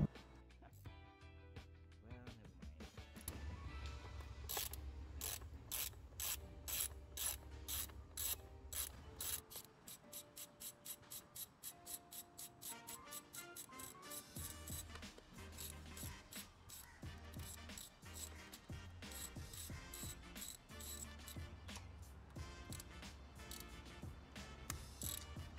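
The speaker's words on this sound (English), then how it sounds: "Now you need to remove the top cover by using hex bits." Ratchet turning hex bits to remove the top cover on a Mercedes W210 with the M111 engine, a fast run of sharp clicks repeating close up over a steady mechanical background.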